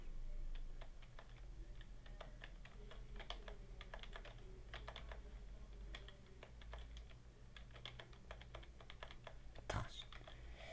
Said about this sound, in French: quand je spam mon clavier, ça doit s'entendre je pense